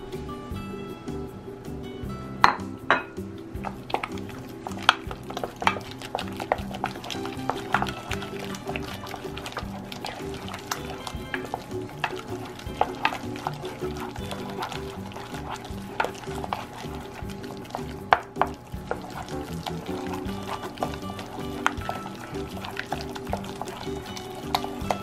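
Eggs are stirred one at a time into cream puff dough by hand, giving soft, irregular sticky scraping and knocking of a spoon in a bowl, with occasional sharper clicks against the side.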